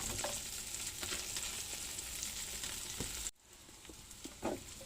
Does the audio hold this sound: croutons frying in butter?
yes